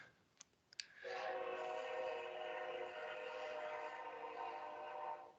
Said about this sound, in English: Oh man, it's a freight train, so it's going to go for a while.